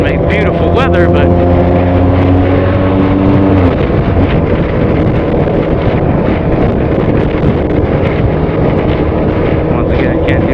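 Heavy wind buffets the microphone on a moving motorcycle, a loud, constant roar mixed with engine drone and passing traffic, with a tonal engine note fading early on.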